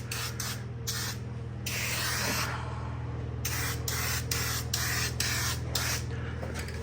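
Turbo aerosol paint cans spray a budget Blazer truck in a closed space, with repeated hissing bursts of varying length broken by short pauses over a steady low background hum.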